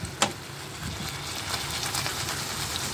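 A steady bubbling, hissing simmer of tofu and fish boiling in a pot, with a faint click near the start and no voices.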